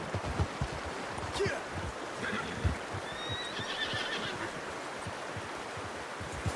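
A horse in the video game Red Dead Redemption 2 whinnies over a dense, steady bed of ambient outdoor game sound, with a few brief higher cries drifting in midway.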